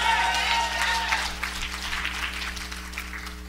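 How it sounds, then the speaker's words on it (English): Audience applauding performers at the close of a church stage production, a soft, somewhat distant wash of clapping over a steady electrical hum, with a voice briefly audible at the start. "please give them a round of applause once again"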